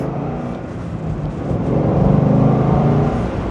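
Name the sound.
car engine revving at half throttle with K&N cold air filter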